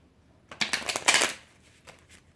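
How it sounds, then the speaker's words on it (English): A deck of tarot cards is riffle-shuffled close up, giving a quick burst of crisp, fluttering card snaps lasting about a second, then a couple of faint taps as the deck settles in a quiet room. "You guys watch me shuffle."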